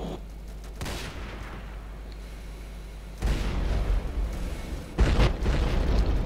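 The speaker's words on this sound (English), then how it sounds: "Torpedoes, the torpedoes." Torpedo explosions go off in a video game: a heavy low rumble builds, then a loud boom hits around three seconds in, followed by a second sharp blast and sustained roaring fire, close and without talk.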